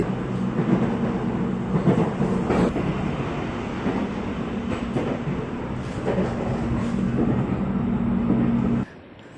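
A Jakarta airport rail link train runs into a station, giving a steady, loud, close rumble with a faint rhythmic rattle. It holds evenly for about nine seconds, then cuts off abruptly.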